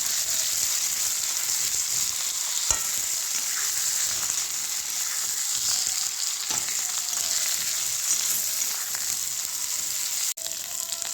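Steady sizzle of small broken potato pieces frying in a pan, a constant close hiss broken by a few soft clicks and stirring sounds.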